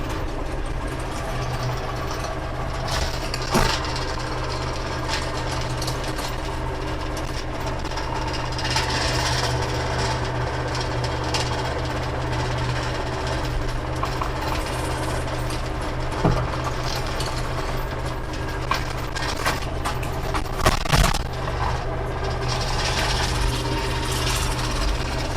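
A vehicle engine running in low range first gear at 2,500 RPM, giving a steady close drone with a rapid knocking rattle throughout and a few brief clanks.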